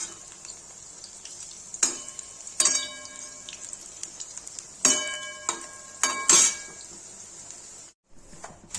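Onion pakoras for kadhi fry in hot oil with a steady, close sizzle, broken by a few sharp metal clinks and scrapes of a utensil against the pan.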